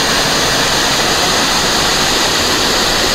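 A waterfall about five to six meters high pouring down, a loud, dense, unbroken roar of falling water heard up close.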